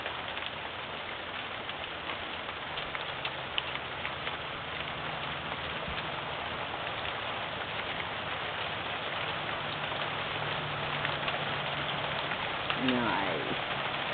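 Hail storm pelting the ground and splashing into a rain puddle, a dense, steady clatter of close impacts that continues without pause throughout.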